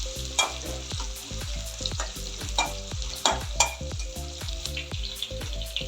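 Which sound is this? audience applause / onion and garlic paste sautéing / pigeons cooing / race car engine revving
onion and garlic paste sautéing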